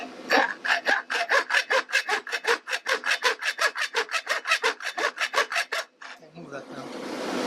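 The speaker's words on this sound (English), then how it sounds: "we're going to start by cutting using a hacksaw our aluminum pieces to size." Hacksaw cutting aluminum pieces to size, about thirty quick, evenly spaced rasping back-and-forth strokes up close, then stopping and followed by a brief rustle.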